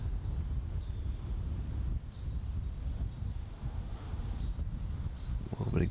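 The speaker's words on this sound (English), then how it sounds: "A little bit of gusting wind." Strong gusting wind roars across a disc golf course during a tournament final round, a dense, continuous low rumble buffeting the microphone throughout with slight surges and no pause.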